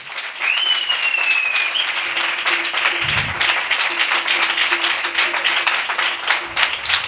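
A church congregation bursts into loud, sustained applause at a prophetic worship service, with a thick wash of clapping from start to finish and a brief low thump partway through.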